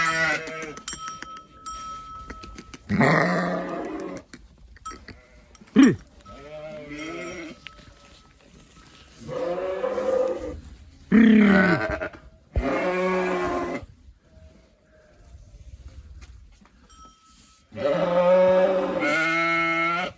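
Several sheep bleat in a series of loud, wavering calls, some overlapping, with short quiet gaps between them nearby.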